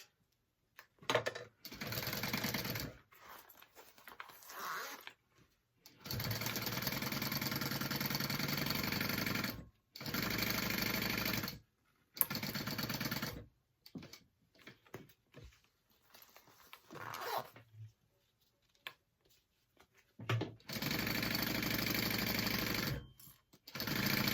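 A sewing machine stitching a 1/4 inch seam on a teddy backpack, running in several steady, loud bursts of rapid mechanical chatter separated by short pauses, with no talking.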